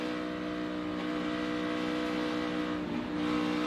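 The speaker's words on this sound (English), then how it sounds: "Listen to him work that gas, too." A race car engine at Las Vegas during practice and qualifying, revving hard on throttle with a loud, sustained whine that shifts pitch as the driver works the gas, close and continuous.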